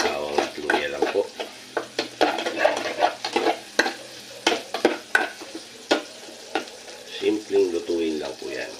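Garlic and ginger frying in oil for a sardine sinigang, sizzling steadily under repeated stirring and scraping strokes in the pan, while someone talks over it throughout.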